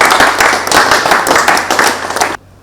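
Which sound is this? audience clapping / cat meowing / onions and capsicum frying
audience clapping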